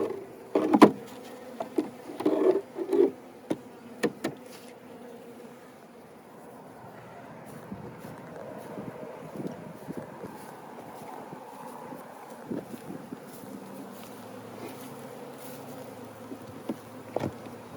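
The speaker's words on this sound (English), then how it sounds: "Lots of bees." Honeybees hum steadily from an open hive outdoors, a soft continuous drone with occasional louder handling knocks and light wind early on.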